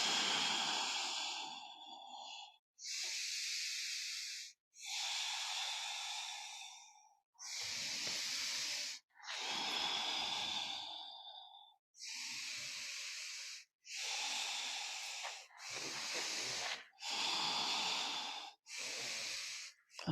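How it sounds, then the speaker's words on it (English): Slow, deep yoga breaths repeat in long, loud, airy bursts about every two seconds, each inhale and exhale close and breathy with brief pauses between, heard alone without talk. "Inhale and exhale. So taking your time with the breath."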